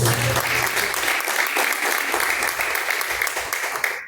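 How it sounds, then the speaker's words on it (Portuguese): A church congregation claps hands in praise during a Pentecostal service, a dense, steady wall of applause filling the whole stretch at fairly loud level, with faint voices underneath. "Palmas que louvam o nome do Senhor."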